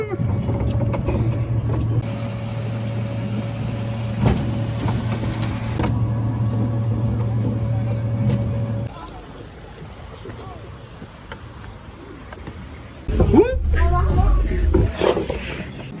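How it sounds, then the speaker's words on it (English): A ride on the monorail at the Efteling theme park in the Netherlands gives a steady mechanical hum and rolling rumble with a constant whine, shifting in character partway, then a burst of louder noise near the end, with people talking. "Now we're going for a ride on the monorail."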